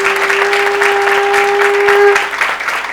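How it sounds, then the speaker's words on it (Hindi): A crowd applauds a child at a satsang gathering, with loud, dense clapping running throughout while a steady sustained tone hums beneath it, fading slightly near the end. "मेरे बच्चे के लिए तालियां बजाओ"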